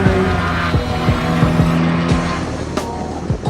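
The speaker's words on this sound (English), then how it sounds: "The Salins cars ran 1-2 like this a lot during the race with screaming 6-into-1 exhaust notes" Vintage Porsche race cars with screaming 6-into-1 exhausts roar past in close succession on a long back straightaway, loud and near, with repeated engine passes and a throbbing, high-revving howl.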